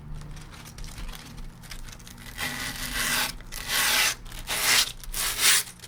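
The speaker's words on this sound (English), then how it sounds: "you can use the excess tape to sand down the sides of your board" Excess grip tape rubbed along the edges of a drop-through skateboard deck to sand them, giving a close, loud raspy scraping in several strokes that grow stronger toward the end, with no voices.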